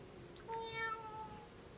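Person imitating a cat's meow: one short rising-and-falling meow voiced by a human, faint and close over a steady background hum.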